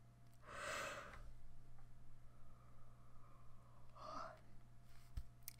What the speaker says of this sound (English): Oh my goodness, I'm yawning a bunch today.